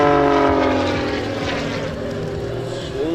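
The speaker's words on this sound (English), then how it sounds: "Now watch the power of the Zimco Edge 540 as he flies right out of that maneuver and into a knife edge spin." A Zivko Edge 540 aerobatic propeller plane roars loud and close in a knife edge spin at an airshow, its engine tone sliding downward as it turns.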